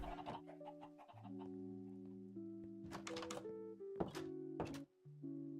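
Chickens cluck faintly in the block-building game Minecraft, a few short clucking calls scattered over sustained soft musical tones, all quiet and with no voices.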